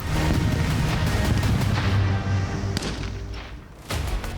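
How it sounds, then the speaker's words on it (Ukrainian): A loud, deep explosive boom from TNT blocks set off to simulate an explosion during a military training exercise, with rumbling blast noise, followed by a sharp crack and another thud near the end, no voices. "тротилові шашки, які за командою імітували вибух"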